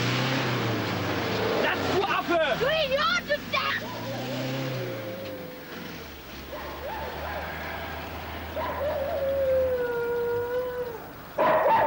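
A dog howls in long, wavering tones, first rising and falling in a drawn-out cry and later holding a steadier howl, heard over a low engine-like rumble and background voices.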